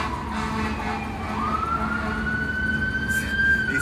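A distant siren wails, its tone sliding up and holding over steady traffic rumble.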